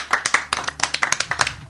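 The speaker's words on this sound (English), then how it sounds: "So give yourselves a round of applause." Audience clapping fills a brief stretch, sharp separate hand claps from a small crowd in quick irregular rhythm, fairly close and with no talk over it.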